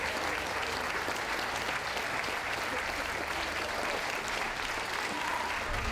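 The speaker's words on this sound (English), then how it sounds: "Could we have a round of applause for those leaving the ring, please?" Audience applause fills a dog show ring at a championship event, steady and sustained across the whole stretch, dense clapping from a large crowd with no talk over it.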